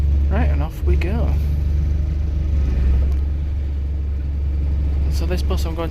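A Leeds 7 series bus pulls away and drives on, a steady low engine rumble close by throughout, with short voice-like sounds early on and again near the end.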